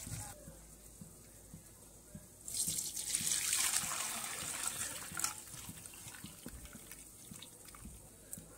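Cooking water from pressure-cooked mutton pours off into a vessel, a loud splashing gush that swells midway and trickles down amid a dripping kitchen background.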